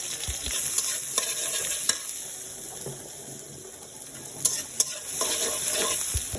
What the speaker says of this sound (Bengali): তেল দিয়েছি, তেল দিচ্ছি বাগারের জন্য।